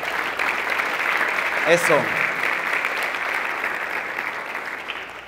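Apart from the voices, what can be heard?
applause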